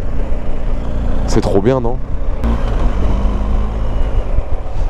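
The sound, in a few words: motorcycle engine while riding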